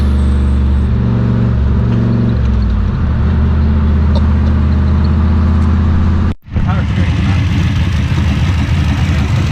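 Turbocharged 351 V8 drift car engine idles and revs loudly nearby with a deep rumble, cuts out briefly, then roars back to life.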